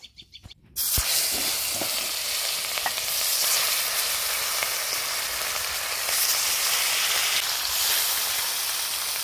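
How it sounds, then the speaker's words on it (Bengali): Big pond fish coated with salt and turmeric hits hot oil at an outdoor village cookout, bursting into a loud, steady sizzle that holds for several seconds after a brief quiet start, with no talking. "লবণ হলুদ মাখিয়ে ভেজে নেব।"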